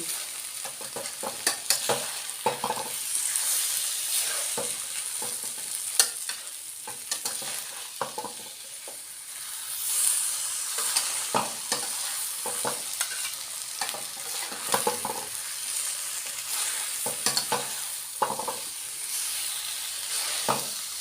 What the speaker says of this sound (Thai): ตั้งใจคนให้ถึงแปดนาทีนะคะ